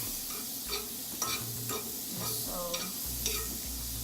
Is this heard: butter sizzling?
yes